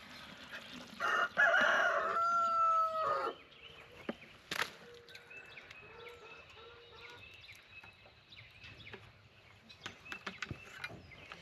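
Chickens sounding off loudly near the start as new feed is offered, with a clear rooster-like call and clucks, then quieter scattered clucks and rustling at a distance.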